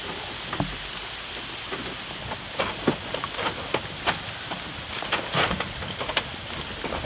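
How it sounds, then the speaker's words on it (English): Rain falling outdoors, a steady close hiss of drops with scattered sharper taps and patters striking nearby surfaces. "It's starting to rain on me"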